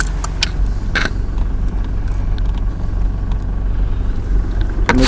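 A car backs up in reverse gear, its engine giving a steady, close low rumble with a few sharp clicks and knocks along the way.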